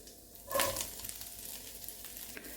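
Chicken sizzles in hot oil with ginger garlic paste and green chillies, a steady close frying hiss that swells briefly near the start, with faint stirring and no talk.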